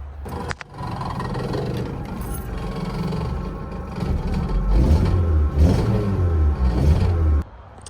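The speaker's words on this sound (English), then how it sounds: "we need to do an exhaust on this thing because this exhaust is terrible" A 1981 VW Mk1 Rabbit pickup's engine revs up and idles roughly through a bad exhaust, a loud, rattly low rumble with surging throttle blips toward the end before cutting off.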